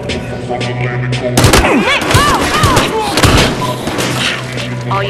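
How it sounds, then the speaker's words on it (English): Gunfire and booming impacts in the police shooter game Battlefield Hardline, with a burst of loud shots and thuds in the middle, set over a steady background hum and game dialogue. "Gunfire reported."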